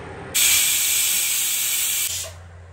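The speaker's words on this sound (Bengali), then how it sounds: "দেখো, দেওয়ার সাথে সাথে কি সুন্দর সিটি পড়া শুরু হলো" A pressure cooker boiling peas vents steam in one loud, sharp hissing whistle that starts abruptly, holds for nearly two seconds, then cuts off, close by with no talk.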